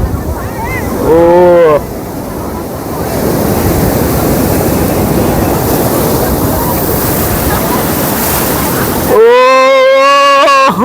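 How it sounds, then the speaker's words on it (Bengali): Big ocean waves break and surge at the beach at Puri during a stormy, rainy spell, a broad continuous roar of surf with voices speaking over the start and end. "ওই ঢেউটা আসছে, বড় ঢেউটা, ওই ঢেউটা"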